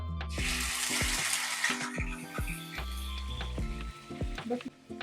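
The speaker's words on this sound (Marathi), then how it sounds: "आता आपण कांद्याची पेस्ट छान परतून घेणार आहोत एक ते दोन मिनिटासाठी" Onion paste frying in oil in a kadai, a bright close sizzle with stirring knocks and scraping at irregular intervals, no talk.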